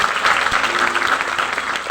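An audience at a devotional bhajan gathering claps together, a dense, steady patter of many hands filling the short stretch at moderate loudness.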